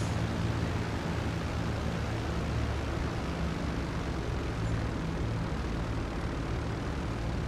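Airplane engine in flight in GTA 5 Online, a steady, loud, broadband roar with low droning propeller tones, unbroken and alone.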